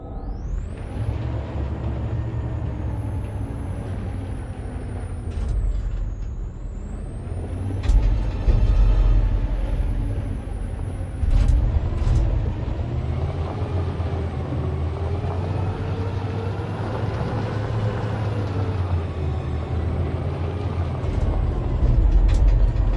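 A truck engine drones and rumbles in Detroit Become Human, a loud, steady motor with shifting pitch and a sharp rising whine near the start, running alone for over twenty seconds without talk.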